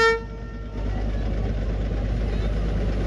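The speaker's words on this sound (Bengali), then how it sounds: "এই দেখো ট্রেন আসছে" Darjeeling toy train pulling in, a brief horn toot at the start, then a loud, steady rolling rumble of the train close by.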